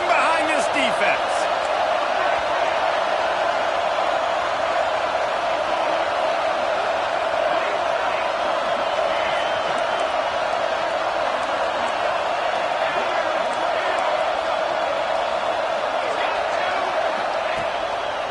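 Football stadium crowd roaring steadily through a big third down in the red zone, a continuous loud wash of cheering with a commentator talking over it.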